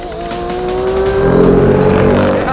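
Porsche 911 GT3 RS at speed on a track, engine note rising loud and close with a sweeping pitch climb, then harsh high-revving roar as it pulls hard.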